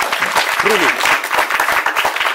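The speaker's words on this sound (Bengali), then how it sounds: "একটু হাততালি please just for this point" An audience claps at a podcast recording, giving a dense, even burst of applause that holds steady throughout, with faint voices murmuring underneath.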